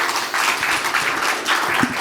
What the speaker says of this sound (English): another a round of applause for the team